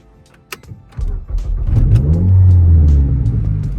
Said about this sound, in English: It's got a little bit of a startup roar,